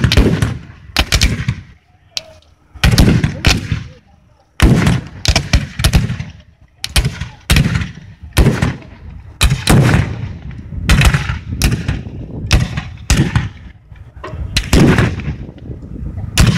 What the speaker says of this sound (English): the rear rank is going to fire, and then the front rank is going to fire.